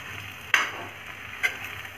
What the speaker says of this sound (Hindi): अब इस पर हम डालेंगे हरा धनिया। इसे भी मिक्स कर लेते हैं।